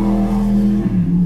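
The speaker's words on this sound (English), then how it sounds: "I don't know if you heard that incredibly loud motorcycle going by." A loud engine drones steadily with a low rumbling tone, its pitch dipping slightly as it passes.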